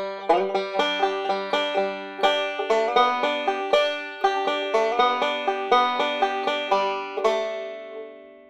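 Solo banjo playing measures 9 to 12 of Will the Circle Be Unbroken, a clear run of bright plucked notes in steady rhythm, close and alone, ending on a ringing final chord.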